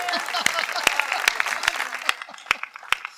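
Thin, scattered clapping from a small audience at a Hindi comedy poetry show, uneven and sparse, with individual claps popping out over a soft murmur.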